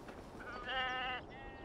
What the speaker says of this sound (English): God, I love sheep.